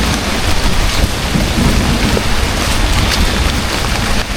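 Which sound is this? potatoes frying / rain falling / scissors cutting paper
rain falling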